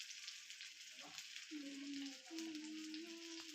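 Rock fish frying in hot oil in a home kitchen pan, a steady close crackling sizzle throughout with a low hum from the stove and a few faint knocks.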